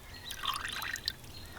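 Water dripped from a dropper, giving a quick cluster of faint, small plinking drops in a quiet room with low background hum.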